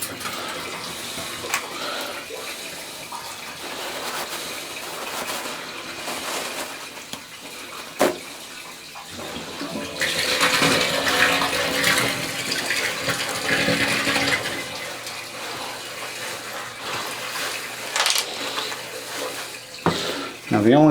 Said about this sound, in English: It's definitely a good flush